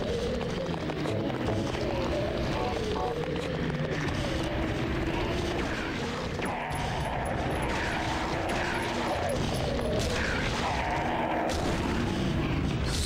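Gunfire in the PS2 game Silent Hill 3, heavy booming shots mixed into a dense, continuous wash of game noise and rumble, with a voice talking over it.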